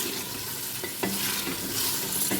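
Mutton roasting with spices and black pepper in a pan, a steady sizzle with a couple of scraping stir strokes, moderately close and without talk.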